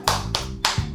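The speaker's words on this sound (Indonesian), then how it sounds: "Kita beri tepuk salut untuk Ibu Warni" A group of mothers gives a rhythmic 'tepuk salut' salute clap, three sharp unison claps landing close and loud in a quick pattern, with no talking.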